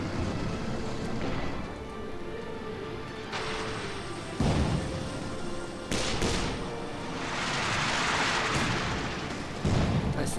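Deep booming blasts and thuds from an incendiary strike in a Company of Heroes-style World War II strategy game, several heavy impacts landing one after another over rumbling battlefield noise.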